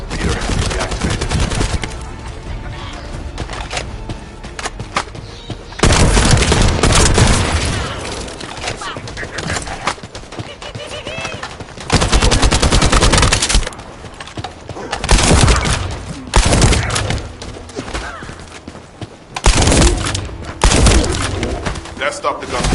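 Repeated bursts of automatic gunfire and heavy explosions from The First Descendant shooter game, loud and dense, arriving in several intense waves separated by quieter stretches of game ambience.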